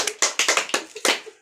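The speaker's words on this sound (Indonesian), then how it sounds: "kita berikan tepuk tangan untuk kelompok 2" A small group in a training session claps in a brief, uneven round, with several sharp, close hand claps in a quick irregular rhythm and no talk.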